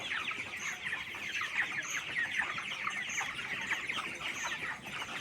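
24-day-old broiler chickens on a farm, a dense chorus of clucks and chirps from many birds at once, continuous and fairly loud with no talking.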